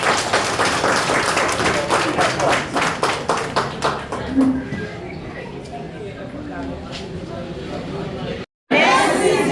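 A gathering honoring an airport firefighter team claps in a rhythmic, even beat for several seconds. The claps then thin out, with voices talking over and after them.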